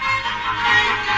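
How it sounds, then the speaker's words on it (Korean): A silk thread scraped on a homemade string instrument built from a paper cup gives a raspy, buzzing, bowed-like tone, a short continuous sustained note heard up close. "명주실을 긁으니 이런 소리가 납니다."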